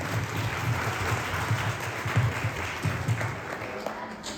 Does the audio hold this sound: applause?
yes